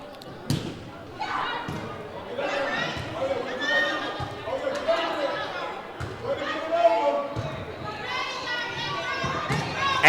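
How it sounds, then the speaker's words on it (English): Coach and volleyball players chatter in a gymnasium, overlapping voices calling out close by with steady talk and occasional thumps throughout. "And you can probably hear there's a lot of chatter going on in the background."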